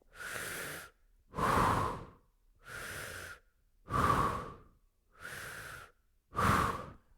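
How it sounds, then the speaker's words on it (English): Forceful breathing through an open mouth, six loud breaths alternating in and out at a steady slow pace, each about a second long, close up. "It's forceful breaths through an open mouth."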